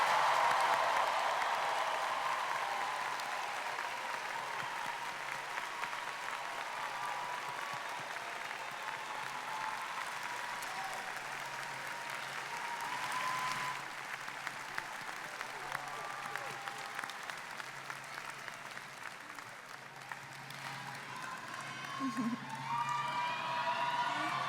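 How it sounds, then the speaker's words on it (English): Commencement crowd applauding and cheering the graduating class of 2024 at NKU, a dense, sustained wash of clapping with scattered whoops filling a large room, steady throughout with slight swells. "Let's have one final round of applause for the class of"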